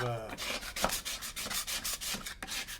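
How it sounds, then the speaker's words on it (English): An aluminum tool scrapes along the edges of a clay slab for a box, making a steady run of rhythmic rasping strokes, close and fairly loud with no talk. "scraping those edges"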